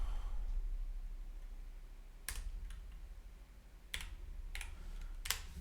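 Quiet typing on a computer keyboard while coding a React component, three short bursts of keystrokes spaced a second or more apart over a low room hum.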